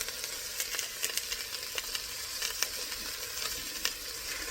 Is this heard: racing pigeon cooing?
no